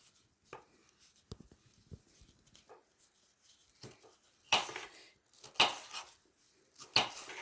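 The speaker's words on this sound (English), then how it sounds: "Slice it up." A knife slices through food on a board for a cold spaghetti chicken salad, with quiet scattered cuts that build into a few sharper, louder chops near the end.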